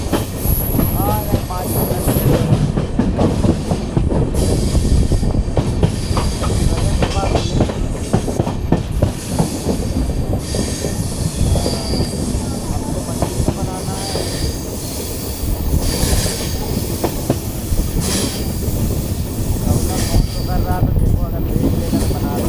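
Interior of a general coach on the Chouri Chaura Express from Gorakhpur to Kanpur, with loud steady rumble, rhythmic clickety-clack of wheels on rail joints and occasional high squeals, continuous throughout with no talk.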